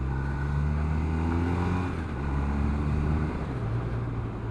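A BMW R1200RS boxer-twin motorcycle engine drones while riding, a low, throbbing hum with steady harmonics that shift in pitch as the bike changes speed, close and continuous, without talk.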